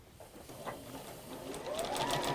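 A sewing machine runs steadily while chain piecing sashing strips onto quilt blocks, its close, even motor hum and needle patter building slightly louder toward the end, with no voices.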